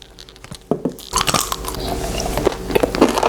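A crunchy bean snack, a Chinese latiao-style treat, is bitten with a sharp crack, followed by close, crackling chewing.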